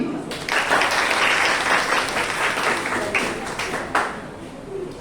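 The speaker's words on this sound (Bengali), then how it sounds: "এই জন্য একটা হাততালি" Sustained applause from an audience at a National Service Scheme (NSS) Day event honouring students who completed a 5 km run, dense, steady clapping filling the whole stretch with a slight swell near the end.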